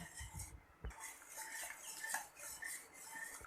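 Cooked toor dal is mashed with a utensil inside a pressure cooker, producing soft scraping and stirring with light metallic clinks against the pot, close and fairly quiet, with no talking.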